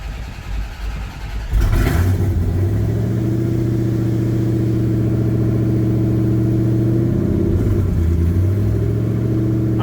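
A salt-water-flooded Corvette ZR1 engine cranks and fires up near the middle of the run, then settles into a loud, steady idle with a strong low rumble, with a brief blip in tone near the end.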